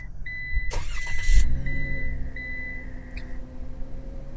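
A Winnebago Travato camper van with a Pure 3 battery system starts itself remotely after key fob lock presses, with short beeps and a burst of cranking followed by a steady, close engine idle.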